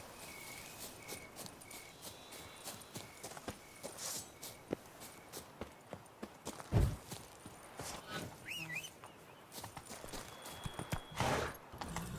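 Roach the horse from The Witcher 3 trots with regular clip-clop hoof steps over a quiet backdrop of chirping crickets, with a few louder thumps along the way.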